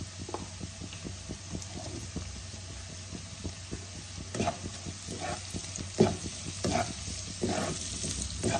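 Boroli fish seasoned with salt and turmeric fries in hot oil, a steady soft sizzle punctuated by scraping stirs and occasional sharper pops and clacks from the pan.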